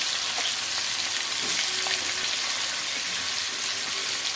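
Food frying on a stove over medium heat, a steady close hiss and sizzle with a few faint stirring clicks, running evenly throughout with no talking.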